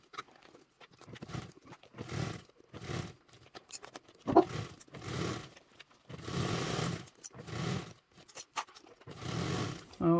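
A sewing machine bastes a duffle bag lining near the clip cover, running in a series of short, close bursts of rapid stitching separated by brief pauses.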